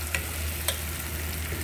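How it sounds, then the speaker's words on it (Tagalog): Tomatoes sautéing in a pan for ginisang mustasa, a dense steady sizzle with a couple of brief clinks of a utensil, close and fairly loud, no talk. "Ginisa muna natin yung kamatis natin guys."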